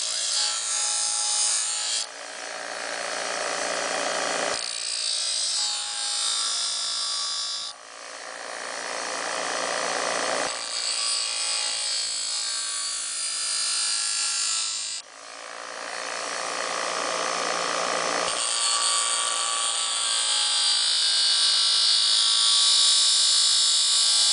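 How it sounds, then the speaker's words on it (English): A grinder removes excess steel from a cheap steak knife, giving a loud, close, harsh high-pitched grinding that runs in several long passes, each broken by brief dips as the blade is repositioned. "Grinding off all this excess takes so long."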